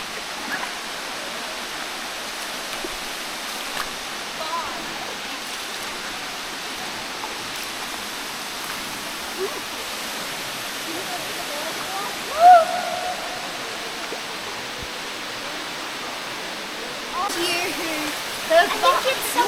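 Water falls steadily at Emma Gorge in a broad, even wash of splashing noise that continues throughout. A few brief louder splashes or knocks stand out, and faint voices come through near the end.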